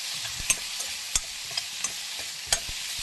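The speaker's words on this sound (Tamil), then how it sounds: "மாங்காய் நல்லா வதக்கிக்கோங்க" Mango pieces stir-fried in a pan, a soft continuous sizzle broken by several sharp spatula scrapes and taps at irregular intervals.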